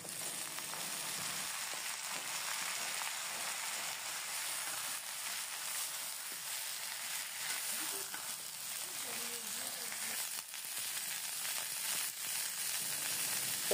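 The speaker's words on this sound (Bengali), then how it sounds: "আলু, সিম, ফুলকপি দিয়ে এবার সব ভালো মতো একসাথে ভেজে নেব" Potatoes, flat beans and cauliflower frying together in oil for a fish curry, a continuous even hiss of sizzling close by with little variation and an occasional faint stir.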